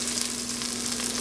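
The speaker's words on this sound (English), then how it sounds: "In the oil, I put some cumin seeds and onion." Cumin seeds and onion sizzle in hot oil for potato puffs, giving a steady, close, crackling hiss that stays even throughout with no talking.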